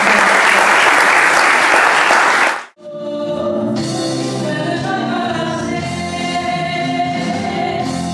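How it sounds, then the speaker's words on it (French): Audience at the Bindi Concert bursts into loud, dense applause that stops abruptly after about two and a half seconds, followed by a music track playing on its own. "Est-ce qu'on peut applaudir pour le Bindi Concert?"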